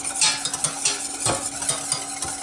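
Warm egg white and sugar mixture being beaten in a bowl for coconut rochers, brisk rhythmic whisking scrapes and clinks close up, continuous and fairly loud.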